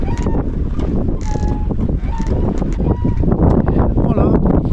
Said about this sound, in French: Et on fait de la voile.